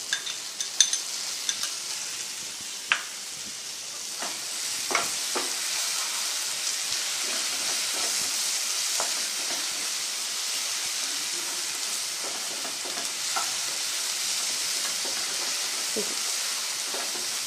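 Ginger garlic paste and chopped tomato sizzle steadily in a hot pan, a continuous frying hiss broken by occasional sharper pops and the scrape of stirring, close by with no talk.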